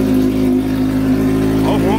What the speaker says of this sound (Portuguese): Curtiu o ronco desse motor?